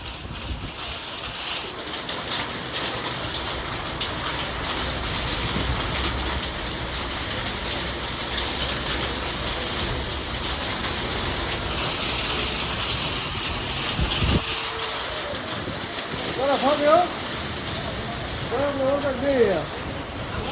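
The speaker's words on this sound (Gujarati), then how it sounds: "બરો વરસાદ બધું પવન બધું ભેગું છે" Steady heavy rain with wind roars and hisses continuously in a summer hailstorm near a road outside Rajkot, with pigeons cooing faintly and brief voices late on.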